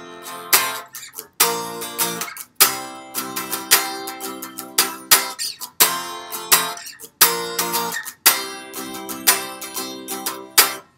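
An unplugged acoustic-sounding guitar strums a common chord progression, loud and close, with steady repeated strums and brief pauses at each chord change, no talking.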